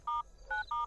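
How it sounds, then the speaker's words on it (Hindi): Touch-tone telephone dialing in a drama scene, three short clear DTMF beeps in quick succession, close and distinct with nothing else around them. "जैकी जी, हरिया के महारानी को फोन लगाओ।"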